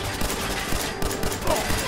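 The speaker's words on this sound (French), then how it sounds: "Merde, je suis en train de tirer sur mon pote." Rapid gunfire in the video game Fallout 4, a dense, loud burst of shots packed into continuous fire over about two seconds.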